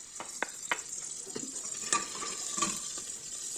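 Turmeric-washed rice being stirred in hot oil in a pan: a steady, fairly quiet sizzle with scattered scraping and tapping from the stirring utensil.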